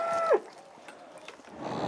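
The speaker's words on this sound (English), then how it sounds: "Let's go check on the cows." Cow on a farm giving one short, clear moo near the start, followed by quiet outdoor ambience with a few faint rustles and rising background noise toward the end.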